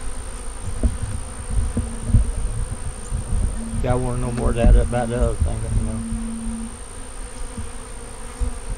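Honey bees at a hive give off a steady background buzz, with a louder whining pass from a bee flying close, while a person talks over it.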